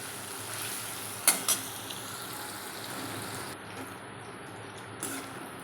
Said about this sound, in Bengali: নাড়িয়ে নিয়ে লাল লাল করে ভেজে নিতে হবে।